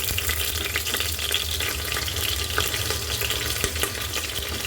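Ginger paste frying with onions in a pan for beef-potato curry crackles with a steady, close sizzle and occasional stirring clatter, with no talk.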